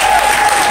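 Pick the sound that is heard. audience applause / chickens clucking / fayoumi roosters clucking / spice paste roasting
audience applause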